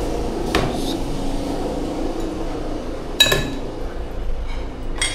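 Drinking glasses clink and knock together as they are set in place among plates and dishes, several sharp, close taps over a steady background hum, without talking.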